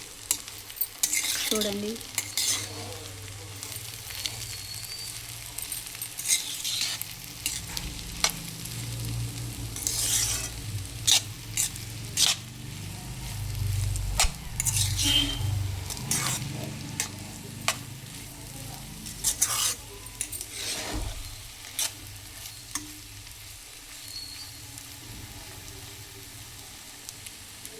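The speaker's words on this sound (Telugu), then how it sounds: "1/2 టీ స్పూన్ ధనియాల పొడి వేసుకొని కలుపుకొని ఫ్రై చేసుకోవాలి" Egg fry with coriander powder sizzling steadily in a pan while a spoon stirs and scrapes through it, close and continuous, with frequent sharp clinks of metal against the pan; a brief word of speech is heard.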